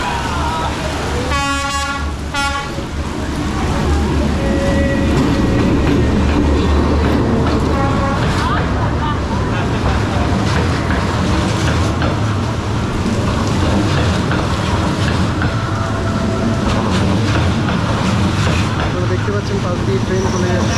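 A train rolls through Hanoi's narrow Train Street in the rain, its horn blaring early, then a loud rumble and clatter passing very close, with people talking over it.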